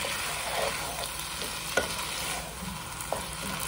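Tomato hitting hot olive oil in a pan for Moroccan lentil soup, a steady moderate sizzle with a few soft stirring scrapes and clicks, no talking.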